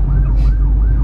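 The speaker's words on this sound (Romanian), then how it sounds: "Trece salvarea, doar Bogdan a tras pe dreapta" An ambulance siren wails in rising and falling sweeps over the heavy low rumble of congested road traffic in Amman, Jordan, loud and close throughout.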